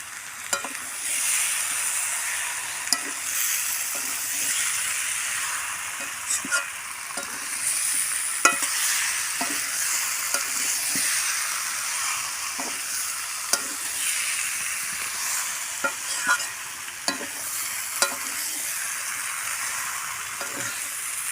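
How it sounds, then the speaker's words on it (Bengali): Jackfruit curry with tomato sautéed dry in a pan: a steady sizzle and fry hiss runs throughout, broken by frequent sharp scrapes and clicks of a spatula stirring against the pan, with no talking. "খুব সুন্দর করে আমি কষিয়ে নিয়েছি।"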